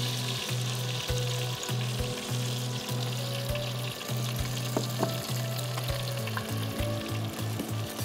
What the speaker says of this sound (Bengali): আমি ফোড়ন হিসাবে আস্ত জিরা দিচ্ছি